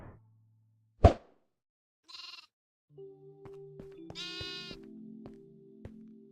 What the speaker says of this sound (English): Oh, there's a sheep there.